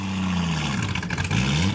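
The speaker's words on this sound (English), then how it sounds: "Ladies and gentlemen, the 1936 Delahaye." A 1936 Delahaye classic car idles and revs in a steady mid-pitched drone during a parade, its engine tone rising and falling with a brief dip before picking back up.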